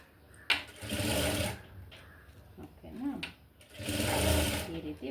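A sewing machine stitches lace onto a blouse in short bursts of whirring, starting and stopping between stretches of someone talking over it at close range.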